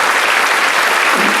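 A theatre audience applauds, dense and continuous clapping from a full hall, loud and even throughout.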